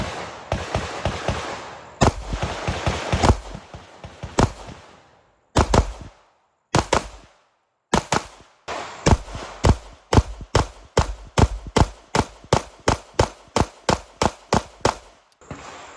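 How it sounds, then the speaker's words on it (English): A compensated Platypus pistol fires a long string of sharp, loud shots, scattered at first with gaps, then settling into a fast, regular cadence of evenly spaced reports. "Joe with the Compensated Platypus. Lock out real good and shoot."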